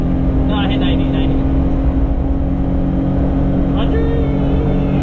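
A Daihatsu Midget II is driven at speed, its engine and road noise forming a loud, steady drone throughout, with a few faint higher squeals riding on top and no talking.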